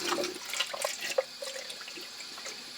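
Plain water splashes and gurgles into a pot for boiling eggs, close and fairly soft, with uneven bursts of pouring and small drips.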